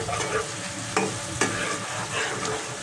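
Rohu fish roe goes into a pan for a bitter gourd fry, a steady sizzle broken by a few sharp scrapes and knocks of a spatula stirring against the pan, close and with no voices.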